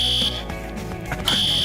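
A fire alarm sounds a loud, piercing electronic tone that cuts out briefly and then resumes, close and insistent, over a rumbling background.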